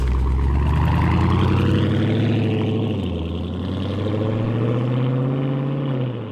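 A widebody Dodge Challenger's engine rumbles loud and close, revving up as the car pulls away, with a deep steady growth in tone and no talk.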